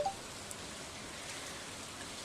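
Soft, steady rain falling in the video game Stardew Valley, a faint even hiss with no other sounds.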